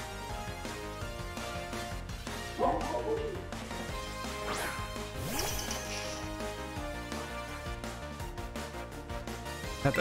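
Greavard, the ghost-dog Pokémon in Scarlet and Violet, gives a short yipping bark over steady, busy in-game music, with a few more whimpering yelps later.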